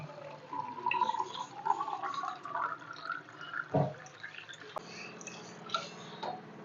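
Water is poured into a cooking pot while making mixed masala dalma, a quiet splashing and trickling with a brief louder clunk midway, then a softer continuing pour.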